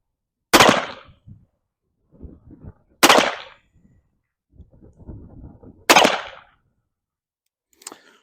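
Three loud, sharp gunshots spaced a few seconds apart from an M1861 Spiller & Burr replica cap and ball revolver, with a fainter fourth crack at the end and brief rustling and clatter between shots.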